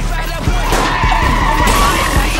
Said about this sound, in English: Oh, car crash!